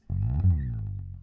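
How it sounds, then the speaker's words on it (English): A single low, buzzy bass tone sliding up and back down, sustained for about a second before cutting off. "when you go like up and down a bass and you have that little slide sound effect,"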